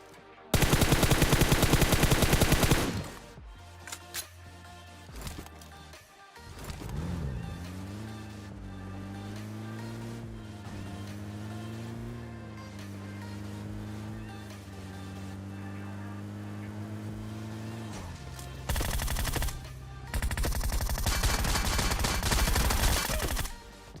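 Groza rifle fire in a battle royale video game: loud, rapid automatic bursts at the start and again near the end, with a steady engine-like drone and faint talk between them.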